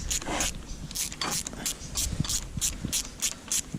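Rhythmic metallic ratcheting and clicking from an Allen key undoing the brake bolts on a motorbike, repeated in steady strokes about twice a second with faint rubbing between them.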